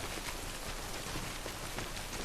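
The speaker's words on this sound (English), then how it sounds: "I need to get out of this stupid rain." Timefall rain pouring down in the Death Stranding video game, a steady dense hiss of rain spattering on surfaces that fills the whole stretch without letting up, with no talking.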